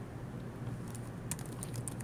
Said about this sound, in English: excuse my terrible typing